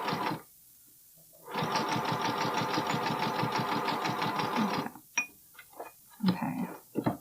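A sewing machine runs steadily for about three seconds while stitching a bralette seam through an opaque lining fabric, then stops, followed by brief handling noises and a few quiet words.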